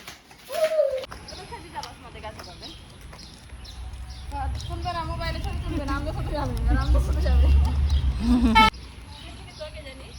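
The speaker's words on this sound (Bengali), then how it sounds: "পাখি, সুন্দর পাখি।" Outdoor street ambience in a town with birdlike coos and calls, fitting pigeons cooing, heard alongside clip-clop and passing traffic rumble. A voice and a child's sounds come briefly near the start.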